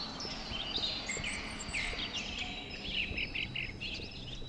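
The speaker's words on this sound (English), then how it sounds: "you can hear several species like great tits, robins and chiffchaffs" Great tits, robins and chiffchaffs chirp and sing in overlapping, high twittering phrases, a lively outdoor chorus at moderate distance with faint background noise.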